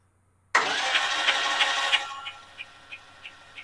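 An electric starter cranks a T140 engine, bursting in loudly out of silence, grinding steadily for about a second and a half, then easing off into a quieter run with regular, evenly spaced ticks.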